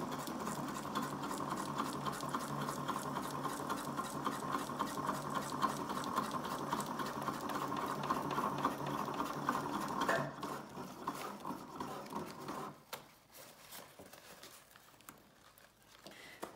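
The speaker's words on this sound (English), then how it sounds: "My machine really didn't care for the plastic underneath, therefore it didn't sew perfectly" A sewing machine stitches fabric layered over plastic, a close, fast, steady mechanical whirr with rapid needle ticking that runs for about ten seconds, then slows into uneven stops and restarts.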